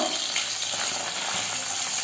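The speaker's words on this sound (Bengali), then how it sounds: "হালকা করে মাছগুলো ভাজবো।" Pabda fish pieces fry gently in oil in a wok, giving a soft, even, continuous sizzle heard up close at a fairly low level.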